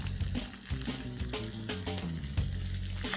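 Roughly two and a half chopped onions with a little salt sizzling in a pan of crispy chillies, curry leaves and garlic, loud and close with crackling bursts and stirring scrapes over a background of faint tones.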